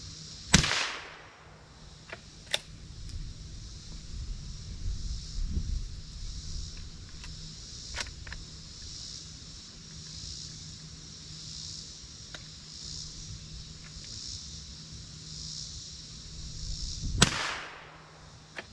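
A vintage Savage/Stevens model 73 rifle fires twice outdoors, two sharp, loud cracks far apart, one at the start and one near the end, with only faint breezy background in between.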